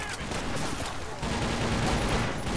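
Gunfire rattles toward the player in the shooter game TimeShift, a dense, steady fusillade of rapid shots filling the whole stretch at moderate loudness with no clear pauses.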